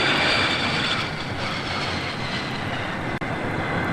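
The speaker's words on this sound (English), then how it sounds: "Every 5 minutes during the holidays, planes come." Jet airplanes pass low over a neighborhood near Boston Logan or Sea-Tac airport in 1976, a loud, continuous engine roar with broad hiss that fills the whole stretch and barely wavers.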